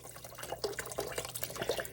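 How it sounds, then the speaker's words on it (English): Water splashes and trickles steadily into a pot of vegetable soup, with a close, soft, uneven pouring sound and scattered drips. "Add a box of water, which the water will help cook the raw vegetables."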